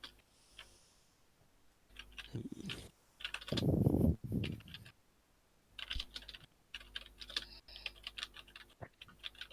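Rapid keyboard typing in bursts, with a louder cluster of clicks near the middle and scattered lighter taps afterward, close and fairly quiet.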